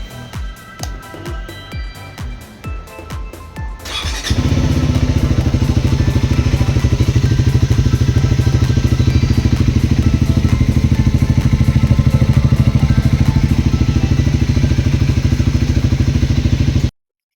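A motorcycle is cold-started after a few seconds of rhythmic cranking, then settles into a loud, steady idle that chugs close by for over twelve seconds before cutting off abruptly.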